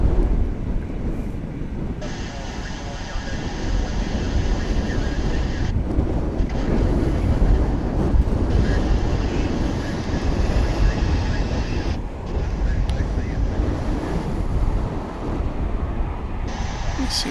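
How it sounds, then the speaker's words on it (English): Wind gusting across the microphone at DFW International Airport, a constant loud roar with rumbling buffeting low in the mix and a faint high whine from distant aircraft coming and going. "See what that wind is up to here."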